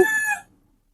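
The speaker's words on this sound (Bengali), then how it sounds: "মোরগটা আমাদেরকে দেখে ডেকে উঠল" The brief tail of a rooster's crow in a village deep in the forest rings out loud and close, then cuts to silence.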